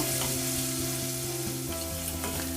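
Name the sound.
onions frying in a pan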